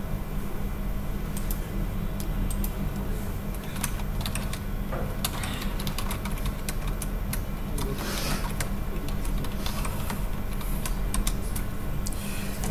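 Rapid typing on a computer keyboard during a Java programming lecture, a steady stream of close, fairly quiet key clicks with irregular bursts over a faint room hum.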